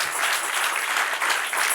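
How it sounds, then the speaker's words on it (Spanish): A church congregation applauds at a Spanish-language worship service, a dense, steady wash of clapping filling the whole stretch with no voices over it. "Dele otro aplauso al que reina"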